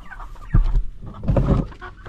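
Chickens in a coop, a few close, short clucks in two brief bursts.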